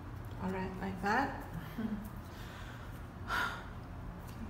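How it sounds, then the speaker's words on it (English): A person breathes heavily while working on an acrylic painting of a cheesecake, with a few audible sighing or gasping breaths, close and faint over a steady background hiss. "I keep on like breathing like that"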